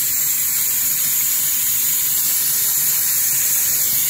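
Soursop leaves rinsed under a running tap, a steady close hiss and splash of flowing water that continues without a break, with no voices.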